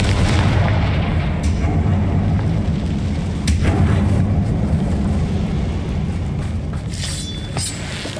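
Fiery Confringo spell blasts in Hogwarts Legacy, set in a closed mine that looks like a tomb, go off in a series of heavy booms and sharp cracks over a constant low rumble, loud and close.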